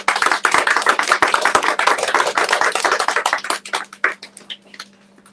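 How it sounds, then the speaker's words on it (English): An audience at an Activate Your Power Now empowerment gathering claps for a woman introduced as a speaker. The applause starts dense and steady, then thins into scattered individual claps before fading out. "So give a round of applause for Heather Davis"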